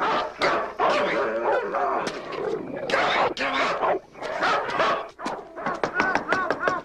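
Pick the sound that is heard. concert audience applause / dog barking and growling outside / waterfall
dog barking and growling outside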